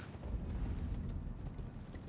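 Horse hooves clip-clop steadily in the video game Elden Ring, a continuous rhythmic thudding of galloping footfalls at moderate loudness with no talking over it.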